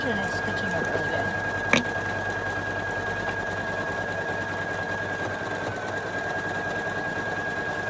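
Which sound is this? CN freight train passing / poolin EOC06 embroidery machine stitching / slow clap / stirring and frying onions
poolin EOC06 embroidery machine stitching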